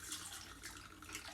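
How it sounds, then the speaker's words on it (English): Margarita drinks are poured into glasses as a soft, steady liquid trickle and splash, faint and continuous with no talking. "we're going to pour these drinks now"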